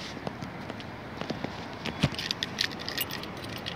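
A set of keys jingles and clinks close by in several brief rattling bursts, with a sharper metallic knock in the middle, beside a custom 2010 Goldwing trike.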